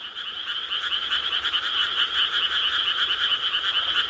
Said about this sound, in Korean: 먼저 일반 개구리를 여러분 들려드리겠습니다.